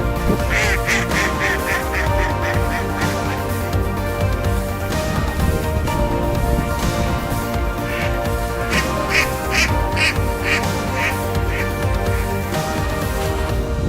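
Ducks quack in a steady run of repeated calls, bursts clustering early and again later, loud and close over a dense, continuous background din without talk.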